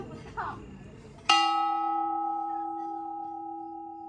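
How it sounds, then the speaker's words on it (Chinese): A hand-struck lovers' bell at a forest farm in Guishan, Taoyuan, is tapped gently once, giving a clear metallic strike that rings on in a long, steady fading tone, after brief quiet chatter. "红茶店附近还有一个手敲钟，请夫人帮我们轻轻敲一下看一看。"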